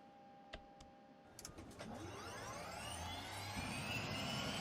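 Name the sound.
EC135 helicopter turbine engine starting up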